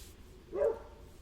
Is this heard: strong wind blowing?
no